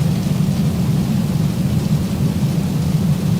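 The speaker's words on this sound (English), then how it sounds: "Rain is easing up." Rain and thunder in the X-Plane 12 flight simulator with the Zibo mod, a steady heavy rumbling downpour with a deep low roll, constant and fairly loud with no talk.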